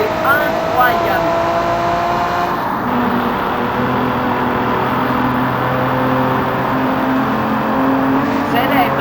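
A powerful car engine drones steadily in BeamNG.drive, its tone shifting partway as revs change, with a continuous buzzy whine throughout and a voice talking over it.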